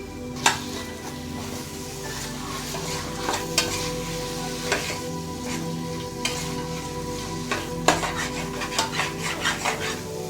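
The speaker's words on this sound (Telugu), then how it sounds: "ఈ మటన్లోని పచ్చివాసన అంతా పోయి ఇందులో నీరంతా ఎగిరిపోయేంత వరకు కలుపుతూ ఫ్రై చేసుకుందాం" Mutton fries in a pan under a steady sizzle while a spoon stirs and scrapes it, sending sharp metallic clacks at irregular moments throughout, all close up and with no talking.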